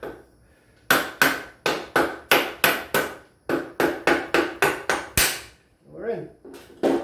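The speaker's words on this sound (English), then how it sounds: "Just give this a couple taps and wiggle it around." Metal parts of a Propel shock absorber being tapped into place with a hammer during a tension-ring reset: a run of about fifteen sharp, loud, evenly spaced close knocks, a brief pause, then a few more taps.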